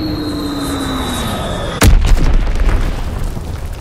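A descending whistle of falling bombs, then a sudden loud blast and rolling, rumbling explosions during a bombing run in Call of Duty: WWII, set in the Ardennes Forest.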